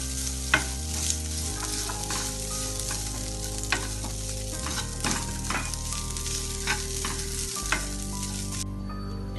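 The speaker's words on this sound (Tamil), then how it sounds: "தேங்காய் கொஞ்சம் வதங்கிடுது." Grated coconut and curry leaves sauté in a pan for chickpea sundal, a continuous frying sizzle broken by scattered spatula scrapes and taps over a low steady hum, with no talking.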